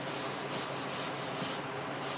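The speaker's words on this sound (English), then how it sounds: "it's not a hard sand. It's 600 grit, wet dry sandpaper." Steady, even hand sanding on mahogany with 600-grit wet/dry sandpaper, a continuous soft rubbing hiss heard up close with no pauses.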